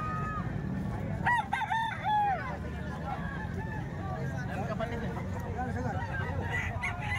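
A rooster crows out in the open, a brief call with a couple of short follow-ups early on, heard over steady low background rumble and distant noise.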